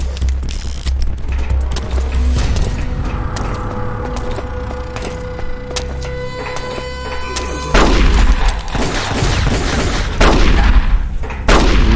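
Gunfire from Metal Gear Solid: The Twin Snakes, with loud repeated booming shots and sharp cracks over game sound effects, dense and continuous throughout.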